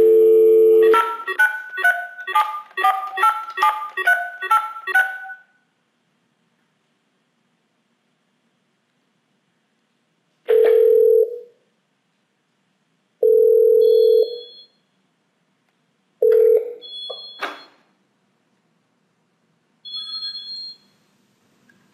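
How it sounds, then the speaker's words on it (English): Telephone dialing out to a VoIP gateway: a quick series of DTMF key tones, a pause, then several evenly spaced ringback tones, clean and alone with silence between them. "I use this telephone to dial out to our gateway."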